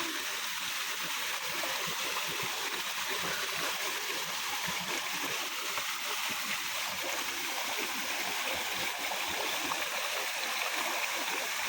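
Mountain stream water rushing steadily and continuously on a trekking trail to the Sadhuragiri hills, with small falls along the path, a broad even wash of flowing water heard alone without speech.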